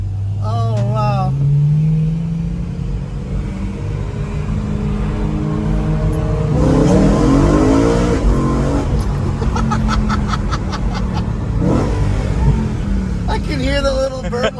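A BMW E92 M3, stock apart from an Active AutoWorks axleback exhaust, revs loudly and continuously up close, its note rising and falling with a burbling edge, while people exclaim over it at moments.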